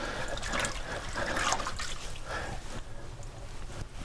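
Tap water runs steadily while groceries are rinsed under it at a sink, a continuous splashing flow with slight surges, fairly close and with no talk.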